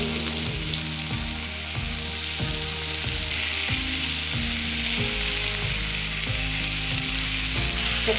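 Potatoes sizzle as they fry in a pan with chopped tomato, a steady, close crackle running unbroken throughout, with a faint low tonal hum underneath.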